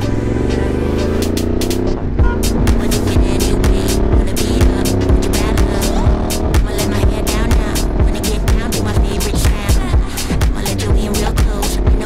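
A Honda big bike in a group ride, its deep exhaust droning loudly and continuously with rising revs and gear changes, close up and steady throughout.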